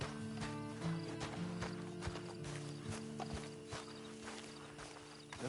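A horse walks in the Red Dead Redemption 2 video game, its hooves clip-clopping in a steady, fairly faint rhythm over low background ambience.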